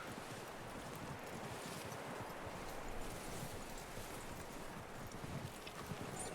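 Horse hooves clip-clopping in the video game Red Dead Redemption 2, a soft irregular hoof rhythm under steady wind and outdoor ambience, faint and continuous.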